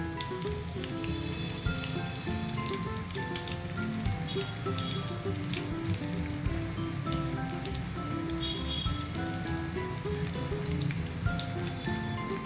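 Makhana and thin poha frying in hot oil for chivda, giving a dense, steady crackling sizzle that stays loud and even throughout, with no voices.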